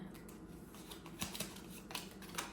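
Tarot cards are shuffled lightly by hand, giving quiet, soft riffling and flicking sounds in a few small bursts over a faint, close background.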